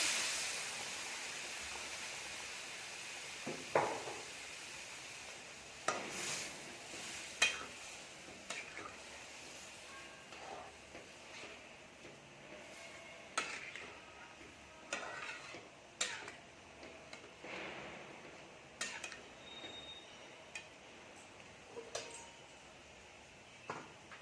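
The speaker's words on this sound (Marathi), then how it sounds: "पालक आणि डाळ टाकून घेऊया" Spinach and dal being stirred in a pan for palak bhaji, a quiet, faint sizzle under irregular scraping and clinking strokes of a spoon against the pan, scattered sharp taps through the clip.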